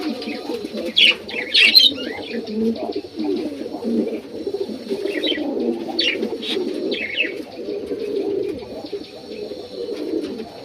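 Pair of American breed pigeons cooing steadily in a breeding loft, a continuous low murmur with a few brighter chirps and brief wing flutters near the start, no talking.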